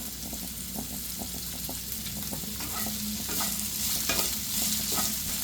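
Okra fries in a pan with a continuous soft sizzle while a spoon or spatula scrapes and taps through it in an uneven rhythm, close up and fairly quiet, with no voices.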